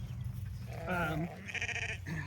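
Ewes and lambs on a farm during lambing season bleat in several overlapping calls, close by and fairly loud over a steady low background rumble.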